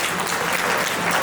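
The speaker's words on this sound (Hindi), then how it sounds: "एक बार जोरदार ताली हो जाए मेरे अंकल के लिए।" Guests at a family celebration party clapping, a short loud, dense wash of applause from many hands, steady from start to finish.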